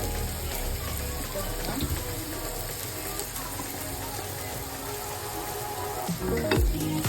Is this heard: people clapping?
no